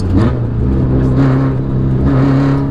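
Fully built Toyota AE86 with a 7AG 20-valve four-cylinder engine, revving hard in steady bursts, a loud close harmonic engine whine that rises and falls twice with no talk.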